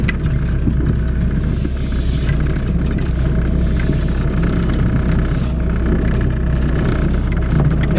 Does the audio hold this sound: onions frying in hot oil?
no